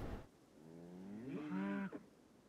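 A cow in the video game Rimworld gives one long, rising moo, clear and fairly close, with a brief scrape of other game noise at the very start.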